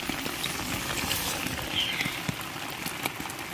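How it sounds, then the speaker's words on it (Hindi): Heavy rain patters and hisses steadily throughout at a forest campsite at night, a dense wash of drops with occasional sharper hits nearby. "पूरी बारिश ही बारिश लगी है बाहर।"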